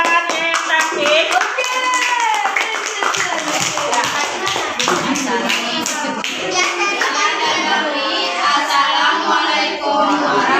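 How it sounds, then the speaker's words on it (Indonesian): Audience clapping hands in a classroom-style learning session, bright rhythmic claps from a small group, close and loud, with voices and a child's chatter mixed in. "Tepuk tangan untuk kakaknya yang cantik."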